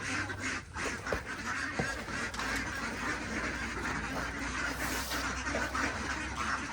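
Ducks quack repeatedly in a noisy cluster while being fed, with scattered honks mixed in and a steady rustling background, close and lively.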